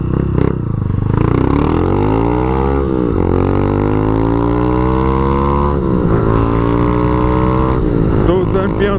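A Honda Fan 160 motorcycle fitted with a 4 mm 190cc big-bore kit revs hard up through several gears, its loud engine note climbing and dropping at each shift, close to the listener.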